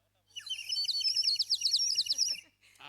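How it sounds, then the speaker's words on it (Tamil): A water bird gives a rapid, bright series of chirping, warbling calls lasting a couple of seconds, close and clear against near silence. "நந்தவனத்துக்குள்ள நுழைஞ்ச உடனே இந்த பறவைகளுடைய சத்தத்தை பாத்தியா?"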